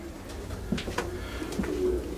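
Pigeons bred for flight competition coo nearby, soft low throaty calls repeating a few times over a busy background of rustling and faint chirps.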